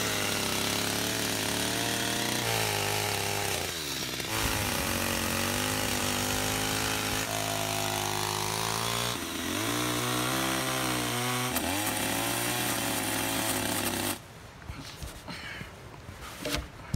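A chainsaw cutting tree trunks while clearing a mountain bike trail on Rapa Nui, loud and close, its engine revving and bogging through several cuts before dropping to a rough idle near the end.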